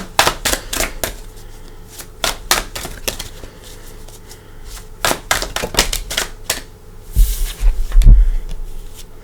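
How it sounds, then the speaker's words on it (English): Tarot cards are shuffled in quick crisp riffles and sharp snaps, coming in irregular bursts up close, with a louder flurry toward the end. "And I'm going to shuffle for your cards"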